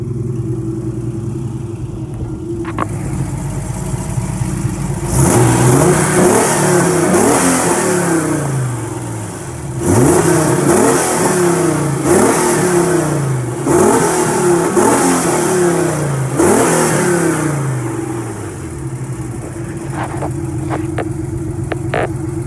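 A 1990 TVR S3 sports car engine cranks and fires, then revs up repeatedly in several loud rising bursts before settling back to a steady idle, heard close by with no talking.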